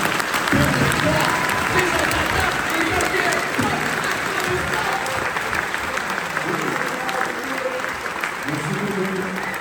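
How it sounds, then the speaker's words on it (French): Loud, sustained applause from a crowd fills the room without letup, with voices and cheers mixed in beneath the clapping. "un tonnerre d'applaudissements encore une fois"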